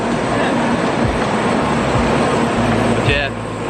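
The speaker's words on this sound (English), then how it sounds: "So that's the Shinkansen. For bullet train." A Shinkansen bullet train rushes past in Japan with a loud, continuous roar of wind and rail noise that fades slightly near the end, while a person talks over it.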